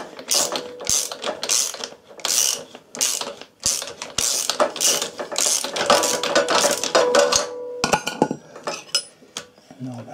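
Ratchet wrench unscrewing bolts on the alternator stator cover of a Yamaha Virago 1100 motorcycle, rapid repeated metallic clicking in bursts, close and loud, with brief pauses and clinks of metal parts.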